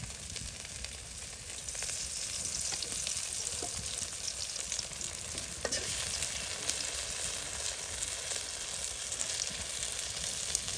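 Malabar spinach fritters deep-frying in hot oil, a steady close sizzle and crackle holding at an even level throughout, with a few faint clicks of stirring.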